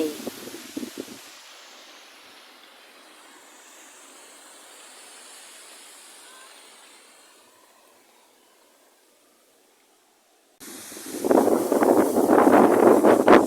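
Strong gusty wind buffets the microphone outdoors in light rain and cool weather, with a loud rushing burst at the start, a long low wash of airy noise, then a sudden heavy roaring gust to the end.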